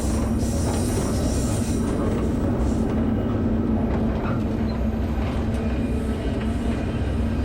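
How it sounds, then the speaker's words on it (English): A train passes at sunset in the Columbia River Gorge: a steady rumble of rolling rail cars with faint wheel noise, continuous and moderately distant. "we got sunset, and we got this train, which I think is a Roper train"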